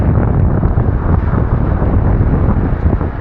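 Strong wind roars and buffets the microphone in a continuous loud rumble during lure fishing, with faint water or boat noise beneath.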